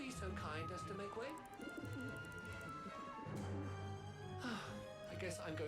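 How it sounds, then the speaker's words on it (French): A pigeon coos in low, throaty bursts in the video game Syberia The World Before, the calls recurring under someone speaking and game music. "How am I supposed to get rid of that pigeon?"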